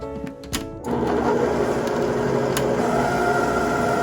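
An electric mixer whirs steadily through key lime cheesecake batter with salt and vanilla added, starting after a few clicks and running as a loud, continuous motor drone close by.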